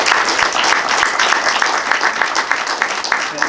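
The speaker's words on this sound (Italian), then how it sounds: "io propongo un applauso di riconoscenza a Marco," Audience applause at a public meeting on regional health legislation, a dense steady patter of many hands clapping close by for the full stretch with no gaps.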